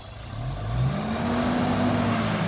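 A car engine is held at full throttle through an electric throttle box, rising to around four thousand rpm, a close, steady droning rev that swells within the first second and then holds.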